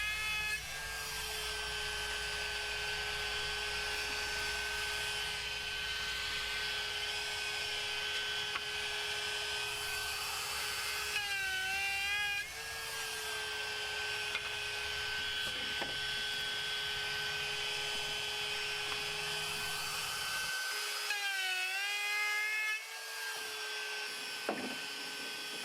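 A router whines steadily as it cuts dados into the sides of a wooden crate, a loud sustained tone with brief pitch dips where the bit bites harder, running continuously without speech.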